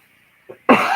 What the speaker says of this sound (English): I don't mean to cough in your ears.